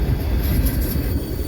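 A fast-moving freight train with a boxcar rushes past close by, a loud, dense rumble of wheels and cars with no gaps in the roar.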